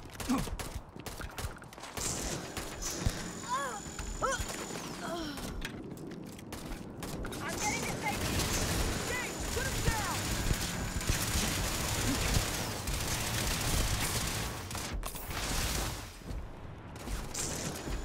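Gunfire in the space game Starfield, a steady rattle of shots and mechanical clatter running throughout a firefight, moderately loud, with voices speaking over it.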